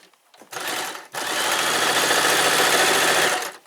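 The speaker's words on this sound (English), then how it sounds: "So now we're going to sew." A Brother LS 2125i sewing machine stitches in two bursts, a short run and then a longer steady whirr, loud and close, with no talk over it.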